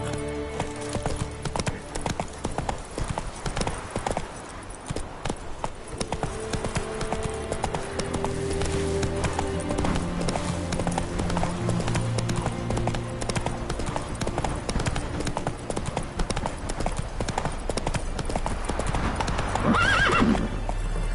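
A horse gallops in The Witcher 3 on PS5, with steady rhythmic hoofbeats running throughout and a loud whinny near the end.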